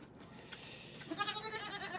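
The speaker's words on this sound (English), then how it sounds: "Okay, some treats for the little goats." Young goats in a new pen bleat in short, thin calls, a few overlapping near the end, close and fairly faint over light background noise.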